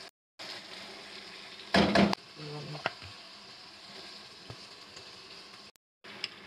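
Fish pieces for a fish curry go one by one into a hot pan, giving a brief loud burst of sizzling that settles into a steady, quieter frying hiss with a few faint utensil clinks.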